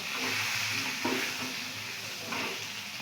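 Fried pumpkin and potato pieces go into a pan with ginger paste and spices, giving a steady, close sizzle with a few soft stirring scrapes.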